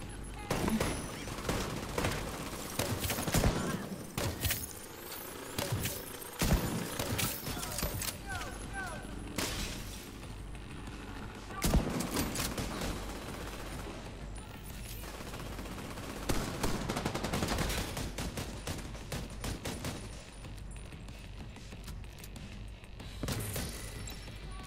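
Gunfire in the video game Tom Clancy's The Division 2 as a player shoots at an enemy: bursts of rapid shots and scattered single cracks at a loud, steady level, mixed with voices talking.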